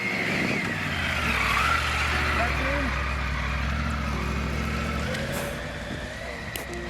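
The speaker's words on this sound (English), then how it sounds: "This motorcycle can go up to 13 kilometers per hour on first gear without any throttle" A Triumph motorcycle idles along in first gear off-road without throttle, a steady low engine drone under someone talking, easing off slightly near the end.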